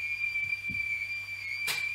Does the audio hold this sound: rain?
no